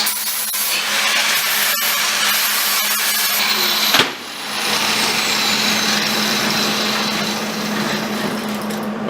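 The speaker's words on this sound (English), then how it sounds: "now we're going to go back to the angle grinder here. This is the Milwaukee with the 60 grit." A Milwaukee angle grinder with a 60 grit disc runs on horseshoe steel, a loud steady high whine with a brief dip partway through, heard alone with no voices.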